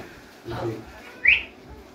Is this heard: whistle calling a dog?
yes